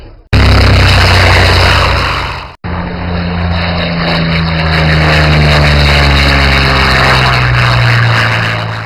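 A Corsair fighter plane flying at the Flying Legends airshow, its piston engine and propeller roaring loud and close in a sustained drone that holds steady after a brief dropout, with no talk.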